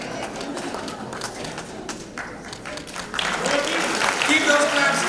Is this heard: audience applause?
yes